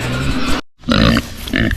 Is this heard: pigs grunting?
yes